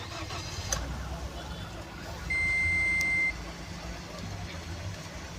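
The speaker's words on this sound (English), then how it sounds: "let me start the vehicle." A vehicle starts in a quiet garage setting, the engine cranking and settling into a low idle while a steady electronic dashboard beep sounds for about a second; faint background noise throughout.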